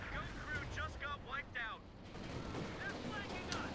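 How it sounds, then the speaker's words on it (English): Anti-tank gun fire in a Company of Heroes 2 4v4 battle on White Ball Express, with booming shots and battle noise heard under a caster's voice. "Brumbar being torn apart by AT gun over here by Funky."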